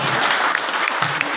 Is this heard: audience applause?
yes